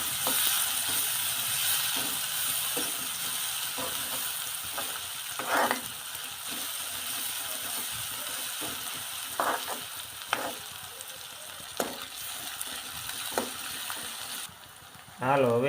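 Onions and curry leaves frying in a pan for sweetcorn chevdo, a continuous close sizzle broken by scattered scrapes and clinks of a spoon stirring at irregular intervals.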